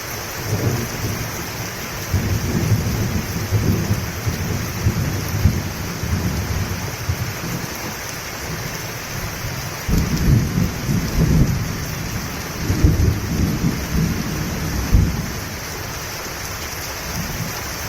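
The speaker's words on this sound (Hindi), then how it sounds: "अगले दिन मूसलाधार बारिश होने लगी।" Heavy torrential rain pours steadily with deep rolling rumbles of thunder swelling at several points, a dense, loud storm ambience for a horror story with no voices.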